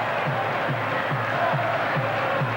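A Super League record crowd at Headingley roars steadily through a Leeds versus Bradford rugby league match, with broad sustained cheering and a faint repeated low thump underneath.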